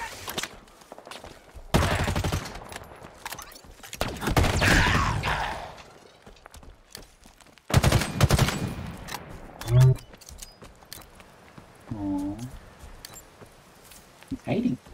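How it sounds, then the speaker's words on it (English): Rocket launcher blasts and explosions boom in Halo Infinite gameplay, several loud bursts with rumbling tails separated by quieter gaps, with a person talking over parts of it. "Rocket launcher."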